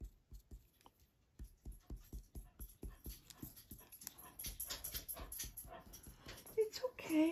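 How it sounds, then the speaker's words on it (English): Dog barking at neighbors, a run of sharp, fairly close barks in steady rhythm over the first half, then louder barks and whimpers mixed with a person talking over it. "I'd really like Cooper to stop barking though."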